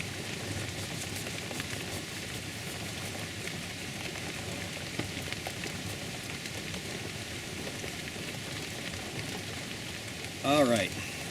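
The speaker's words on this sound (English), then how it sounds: "it just keeps on getting harder and harder, the rain" Heavy rain pours steadily in a continuous dense hiss outdoors beside a parked car, with a brief voice-like sound near the end.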